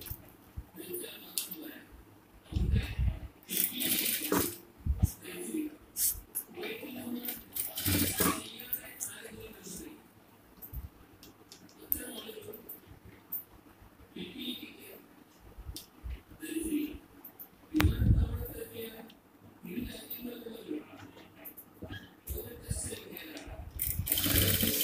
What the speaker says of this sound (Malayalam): ഇങ്ങനെ ഒന്ന് പ്ലീറ്റ്സ് വെച്ചതിന് ശേഷം സ്റ്റിച്ച് ചെയ്ത് നോക്കാം.